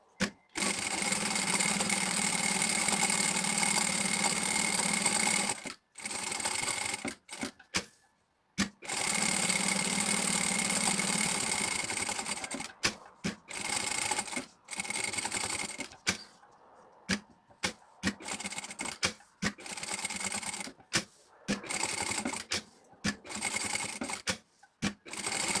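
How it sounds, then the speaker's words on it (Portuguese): A sewing machine stitches around the edge of a fabric chicken in long whirring runs, then in short stop-start bursts separated by silent pauses, close and loud with no talking. "E vamos passar uma costura à beirinha para segurar isto tudo primeiro."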